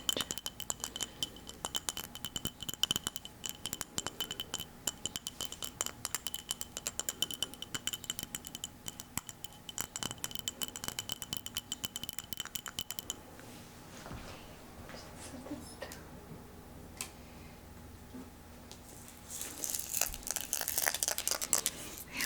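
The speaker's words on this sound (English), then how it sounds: "This awesome rattle from the Rattle maker." A handmade rattle from an Etsy maker is shaken in steady, fast bursts for about thirteen seconds, then the sound drops to quiet scattered clinks before a brighter, louder shaking returns near the end.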